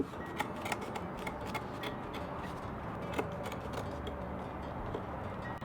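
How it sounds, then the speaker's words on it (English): Scissors trim upholstery fabric along a stapled line on a thrift store chair, a quiet run of crisp snips and clicks repeating irregularly near the listener. "I just kind of pull the fabric up and cut right along the line"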